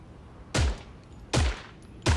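Three loud gunshots ring out in Creative Destruction, spaced roughly evenly, each a sharp crack with a booming low tail, close and clear against a faint background.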